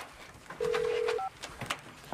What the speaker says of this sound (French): Ok, ça sonne, écoute.